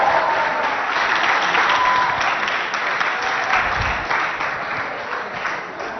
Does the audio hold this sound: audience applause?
yes